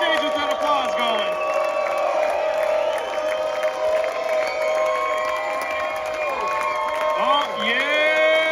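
Festival crowd cheering and applauding at an outdoor music event, sustained clapping with whoops and shouted voices rising over it, lively and fairly near, with talking mixed in.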